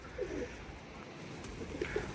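Soft pigeon coos from a Mardin pigeon flock come twice, faint and a little distant, over a steady low background hum.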